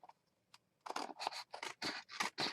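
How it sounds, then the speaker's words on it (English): Scissors fussy cut paper for a junk journal, a close series of crisp snips in an uneven rhythm that grows denser after a few sparse early cuts. "I'm just going to use my scissors to come in here and cut a little bit of a frame around it"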